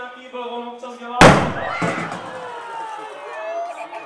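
A museum atrium chemistry show sets off a demonstration explosion with copper sulfate or liquid nitrogen, heard as one loud sudden burst after a sustained tone, then fading echoes and faint crowd murmur.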